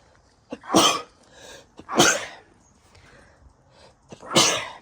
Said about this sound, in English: Gotta sneeze, you know.